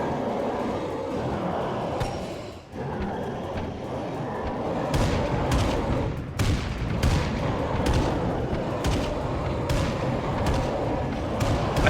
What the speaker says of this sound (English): How about we try the mortar barrage?